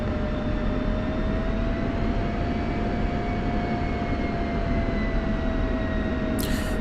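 An F-16 jet taxis toward the runway in the DCS flight simulator, a steady loud engine roar with a constant whine holding through the whole stretch, alone without voices.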